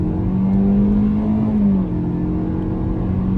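A 2022 Lexus UX 200 with a 1.3 turbo three-cylinder accelerates hard, heard from inside as a steady droning engine note that climbs, then settles to a lower hum.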